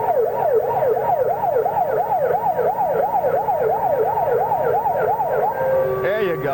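A miniature fire truck in a 1985 Christmas parade sounds a loud, close wailing siren that sweeps up and down rapidly and steadily, over background crowd and street noise, with a brief change in pitch at the end.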